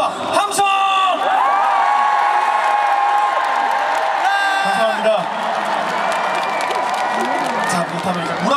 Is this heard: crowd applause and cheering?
yes